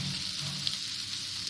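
Cashew nuts are stirred into an egg rice masala in a hot pan, giving a short, steady sizzle with faint stirring underneath.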